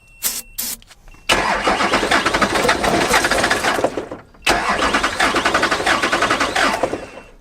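Hummer engine with one dead cylinder cranks briefly, then catches and runs roughly in two loud bursts, with choppy uneven firing and a short pause between runs.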